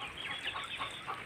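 Penned chickens cluck in brief, soft bursts, a close, busy chatter of several birds.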